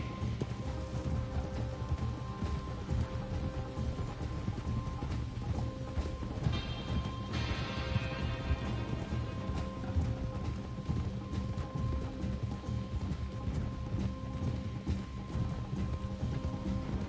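Horses gallop in the Red Dead Redemption 2 video game, their steady clip-clop hoofbeats running continuously over a dense, even background, with a faint whinny and some mechanical clicking partway through.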